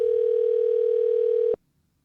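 A single steady telephone tone sounds on a call line before it reaches voicemail, clear and continuous for about one and a half seconds, then cuts off abruptly into silence.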